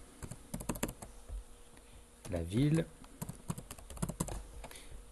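Quick bursts of keyboard typing, clicky and close, with a person speaking briefly in the middle.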